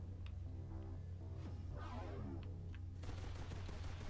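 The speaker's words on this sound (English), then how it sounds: "Like this gun. so I could shoot things faster." An upgraded gun in the video game Meka On fires in rapid bursts of quick, even shots, with a faint steady hum from the game underneath throughout.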